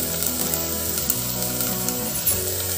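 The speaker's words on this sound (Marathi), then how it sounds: "आता आपण यात धुतलेली डाळ टाकून घेऊ।" Washed mixed urad dal dropped into hot oil with fried green masala for Khandeshi dal, giving a steady, close, loud sizzle and frying hiss throughout with no talk.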